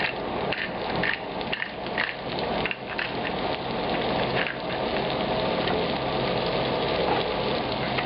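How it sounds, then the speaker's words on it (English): Steak pan frying in a skillet, a Steak Diane preparation seasoned with salt and black pepper, gives a steady, loud, dense crackling sizzle that runs continuously throughout with no voices. "Let it pan fry for about 1 minute on this side."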